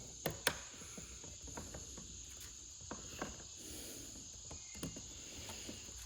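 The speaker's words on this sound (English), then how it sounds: "Using my little plastic pry tool." A small plastic pry tool working trim pieces loose on a Corvette C8 Z06: scattered sharp clicks and snaps, a few louder pops, over a steady faint hiss, close up and without speech.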